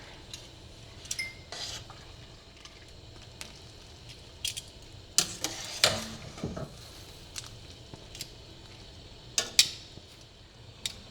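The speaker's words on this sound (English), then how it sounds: "my pasta is ready, so I'm going to add it right into my pan" Cooked pasta goes into a pan of simmering cream sauce and is stirred, with scattered clinks and scrapes of a utensil against the pan over a faint background sizzle.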